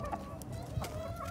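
A fighting rooster clucks a few short times, fairly close, over a steady murmur of background noise.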